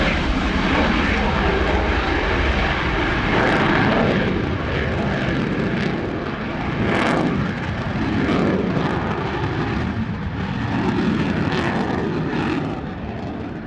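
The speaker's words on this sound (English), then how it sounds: "The F-16, I believe, now setting up for its" F-16 fighter jet in a flying display at an evening air show, a loud continuous jet roar with sweeping surges as it passes, under intermittent commentary speech.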